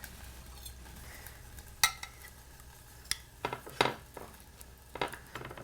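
A flat iron steak on an opened George Foreman grill gives a low, steady sizzle beneath sharper clinks and scrapes of utensils, several metallic taps standing out in the latter half.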